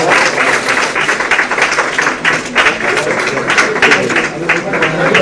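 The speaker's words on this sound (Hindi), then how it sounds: "तालियों की गड़गड़ाहट से स्वागत किया है वैक्सीन का" Loud, sustained applause fills a hall as the first COVID vaccine shot is given at the launch of India's vaccination drive, a dense crowd clapping continuously with voices mixed in.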